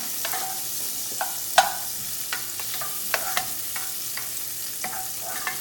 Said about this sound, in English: I'm just gonna stir this up a little bit.